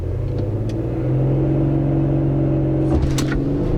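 An Audi SQ5 holds a deep, steady engine drone that rises a step as the car launches from a standstill, with a low rumble and a few faint clicks near the end.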